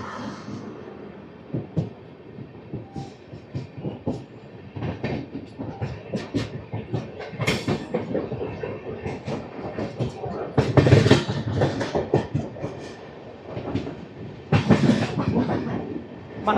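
Rayalaseema Superfast Express, train 12794 from Nizamabad to Tirupati, pulling away from Kamareddy station: a steady close rumble of the carriages with rhythmic clickety-clack from the wheels and louder surges near the end.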